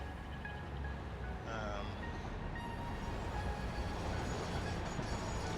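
Trains run along rail lines in the factory-building game Satisfactory, a steady rumbling rolling hum with faint squealing tones, moderately quiet and continuous.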